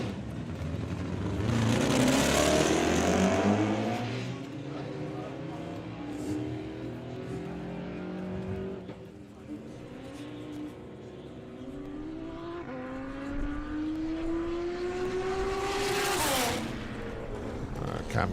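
Six-cylinder drag racing car making a run at a doorslammers event, engine note rising and falling across the pass with a brief gear-change dip, loud and continuous with crowd or commentary under it.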